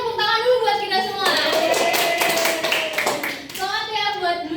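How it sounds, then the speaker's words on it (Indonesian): A classroom of students breaks into a short burst of clapping with excited voices after a biology quiz between teams, the applause framed by talking before and after. "Oke, tepuk tangan dulu buat kita semua."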